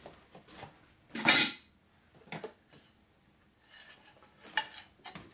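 A valve seat cutter working a cast iron seat on a 1981 Sportster 1000cc ironhead cylinder head, with short metallic scraping bursts, one loud rasp, then several quieter chattering cuts at close range.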